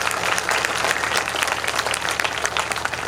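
Loud, dense applause from a crowd gathered at a Hindu religious discourse and community feast, steady clapping filling the whole stretch without a break.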